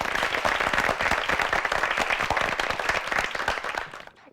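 A studio audience at a televised Korean high school debate competition applauds steadily, dense clapping close and loud, fading out at the end.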